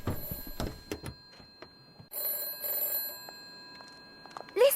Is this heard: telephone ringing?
yes